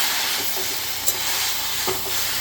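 Chopped green chili being stirred through red amaranth greens (lal saag) in a pan, giving a steady close hiss and sizzle with a couple of brief scraping strokes of the spoon.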